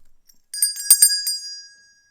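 A small bell rings a few times in quick succession, bright and clear, then its tone lingers and fades away into silence.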